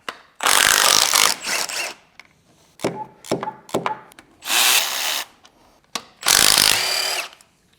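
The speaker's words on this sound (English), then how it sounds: "Now we can undo the transmission nuts." Transmission nuts on a Maserati Quattroporte GTS 530hp V8 are undone with a power tool, loud whirring bursts of a second or so repeating several times with short ratchety taps between them, close up.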